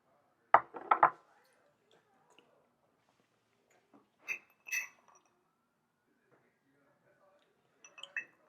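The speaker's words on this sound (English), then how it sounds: "let's clink them and drink them" Two whiskey glasses clink together in a toast, a cluster of sharp glassy taps near the start, followed by fainter clinks and knocks as the glasses are handled later on.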